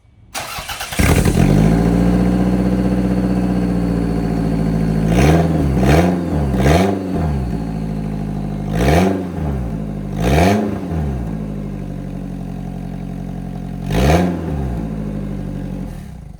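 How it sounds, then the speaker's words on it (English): Toyota MR2 engine with the exhaust removed, starting up then idling loudly with a series of sharp blips of revving, each rising and falling quickly, close and alone. "Now we're gonna do a sound clip of it without the exhaust."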